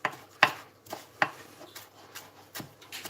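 Knife chopping parsley on a cutting board, a series of sharp, irregular thuds and taps at close range with quiet scraping between strikes.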